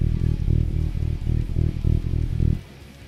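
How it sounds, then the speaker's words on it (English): A Yamaha electric bass with the tone knob turned all the way down plays a fast run of even, rhythmic notes with a dark, muffled low tone, then stops abruptly. "I would run the tone knob all the way down to get a sort of vintage tone"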